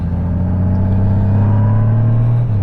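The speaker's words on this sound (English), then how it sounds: "Can you tell by the sound of the motor what bike this is?" Cruiser motorcycle engine idling and revving close up, a loud low throbbing rumble that rises slightly in pitch before settling back, with no talk over it.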